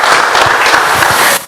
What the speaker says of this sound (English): Anything touches my heart, I'm going to clap.